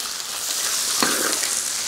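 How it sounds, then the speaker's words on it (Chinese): Pork intestines stir-fry in a hot pan, a steady sizzling hiss with a sudden louder burst of sizzle midway as food is tossed, close and with no talking. "肥肠下去炒起，"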